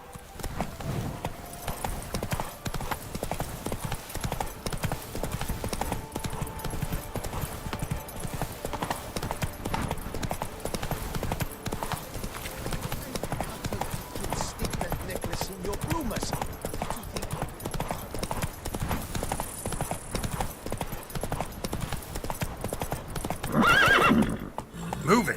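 Horse hooves galloping in The Witcher 3 on hard mode, a steady rapid clip-clop running throughout with occasional whinnies, layered under game music and talk.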